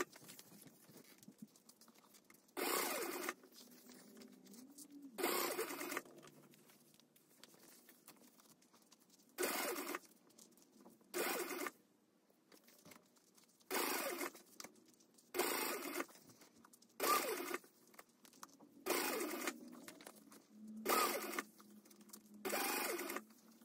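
Sewing machine top stitching a Hugo handbag close to the seam, in about nine short bursts of rapid stitching separated by quiet pauses.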